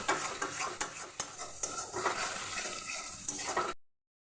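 Small fish being stirred with a little salt in a cooking pot: scraping, clinking stir strokes with a light sizzle, close and fairly quiet, ending abruptly.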